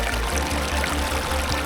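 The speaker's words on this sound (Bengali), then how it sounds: "আর নদীর কুলকুল শব্দ।" Water of a mountain river on the Annapurna Base Camp trek pours and gurgles steadily and fairly close, a continuous rushing wash with low rhythmic surging underneath, no voices present.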